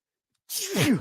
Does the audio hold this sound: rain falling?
no